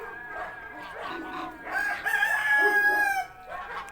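A chicken crows in a drawn-out, wavering call that rises and holds before trailing off, close and clear, with softer clucking and faint background noise around it.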